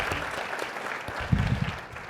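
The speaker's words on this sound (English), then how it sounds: "Let's give her a round of applause" Audience applause for a scientist at a hosted conversation on metabolism, a short burst of clapping at moderate distance, swelling slightly near the end.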